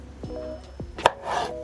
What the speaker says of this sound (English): So I'm just chopping them into little cubes to once again make them easier to mash.